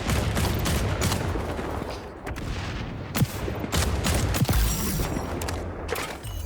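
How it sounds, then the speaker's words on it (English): Gunfire from the MK20 SSR marksman rifle in the XDefiant shooter game, sharp reports cracking out at intervals over a dense, busy battle soundscape with booms and mechanical clatter. "It's the MK20 SSR, as you can see in the bottom right. And it's pretty consistent as a 2-shot kill."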